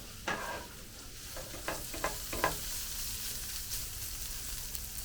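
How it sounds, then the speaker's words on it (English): Green beans cook down in hot bacon grease, giving a steady low sizzle with a few sharp clicks of stirring scattered through it; the sound is fairly quiet, with no talking. "we're going to let those green beans begin to cook down into this bacon grease"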